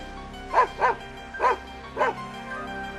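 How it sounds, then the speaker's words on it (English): A dog named Ben barks four times in quick, close, sharp bursts over a low steady hum, with short pauses between the barks. "Then the phone picked up and Ben started to bark."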